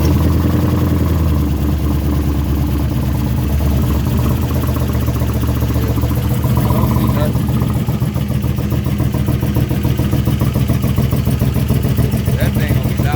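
A 1964 car fitted with an LS-swap V8 and aftermarket cam runs with a loud, steady, lumpy idle throughout, close up, with people talking over it.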